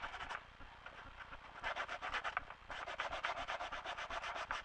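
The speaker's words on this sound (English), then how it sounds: "You're going to quickly sand those nubby pieces off so that it's a lot straighter." Sandpaper rubbing quickly over small rough nubs on a craft casket piece built from Dollar Tree products, a steady close scratchy back-and-forth in bursts with no talking.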